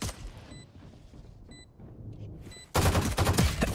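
Rapid gunfire in the tactical shooter Valorant: sparse shots and game cues at first, then a loud sustained burst of automatic fire with impacts, close and dense, with no talking.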